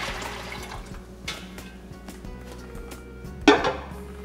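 Korean bone broth soup (seolleongtang) poured back and forth between pots, with faint liquid splashing and clinks of metal cookware, and a sharper pot clank near the end.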